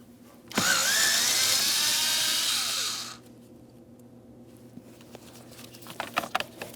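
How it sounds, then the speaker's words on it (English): A power tool whirs loudly for about two and a half seconds while blower motor mounting bolts come out of a 2007-2014 Ford Edge, then stops, leaving faint clicks and light handling noises nearby. "As we remove our final mounting bolts,"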